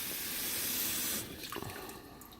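Water runs steadily from a kitchen sink tap into a basin fitted with a garbage disposal, a loud broadband rush that cuts off partway through, leaving faint drips and small clinks.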